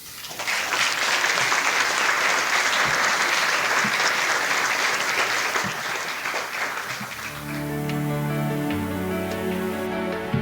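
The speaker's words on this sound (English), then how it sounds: "a big round of applause again for our three speakers, Sher, Gustavo, and Mark" A conference audience claps for three speakers at a Ventura County housing event, a loud, dense wash of applause for most of the stretch, fading as a sustained musical tone comes in underneath toward the end.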